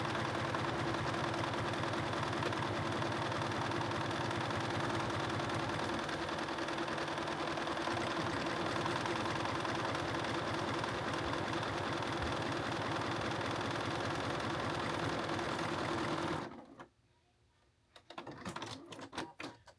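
A sewing machine stitches a buttonhole in a steady, fast mechanical whir of needle strokes lasting about sixteen seconds, then stops abruptly, leaving a few quiet clicks and handling taps.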